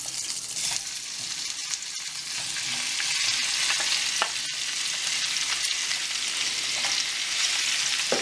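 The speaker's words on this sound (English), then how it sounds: "So now I'm going to add in all of the potato." Cooked potatoes going into a pan of frying spices and being stirred for chip chaat, a steady loud sizzle that swells as they are added, with occasional scrapes and clinks of stirring.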